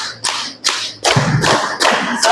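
Three sharp hand claps sound in rhythm from a group at an Islamic religious instructors' training session, loud and close, with no talk.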